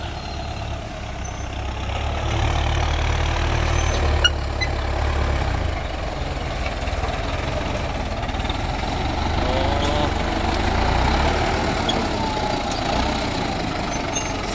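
A heavy diesel grader tractor engine rumbles steadily nearby, a low continuous drone with a brief hiss partway through.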